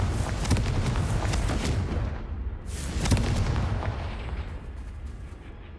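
A Confringo spell blast in Hogwarts Legacy bursts out as a couple of deep, booming explosive thuds amid other game impacts, loud at first, then fading into a rumbling tail.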